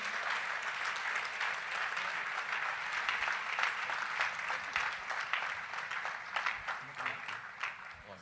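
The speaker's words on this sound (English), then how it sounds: "A round of applause as he gets here." Sustained applause from a teachers' conference audience welcoming a guest, dense and steady clapping from a large crowd, fairly distant, continuing unbroken for the whole stretch.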